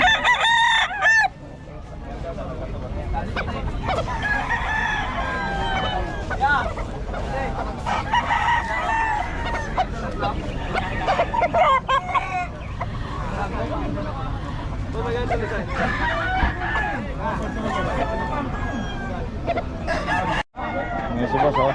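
Many roosters crow over and over through the noise of a crowded open-air poultry market. The calls overlap at different distances against a steady murmur of voices, and people talk throughout.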